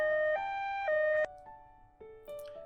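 A video game ambulance siren sounds as a clean electronic two-tone wail, stepping between high and low pitches in a steady alternating pattern, clear and up close with no talk.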